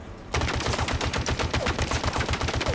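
Spiker weapon firing in Halo Infinite, a rapid automatic stream of sharp shots kicking in after a short quiet lead-in and continuing steadily and loud to the end.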